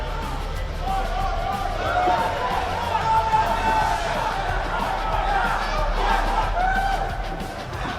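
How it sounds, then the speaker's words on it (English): Arena crowd noise from the WWE 2K18 wrestling game, a steady roar of cheering and babble with occasional thuds, under continuous commentary talk. "The crowd seems to like Paul Blaze."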